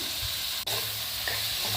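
Mushrooms sizzle steadily in hot oil with a soft stirring scrape partway through, close and continuous.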